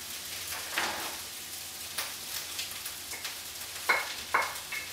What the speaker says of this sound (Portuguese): Agora a gente já entra com o funghi. Ok. Tá. Funghi seco. Funghi seco. Na panela.